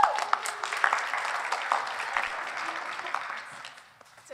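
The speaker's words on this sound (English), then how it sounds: "let's please give a big round of applause to our benefactor" At a high school fall play, an audience applauds a theater benefactor, a moderate burst of clapping that starts strong and gradually thins and fades toward the end.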